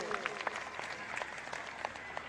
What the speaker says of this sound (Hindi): इनके लिए जोरदार तालियां बजा दीजिए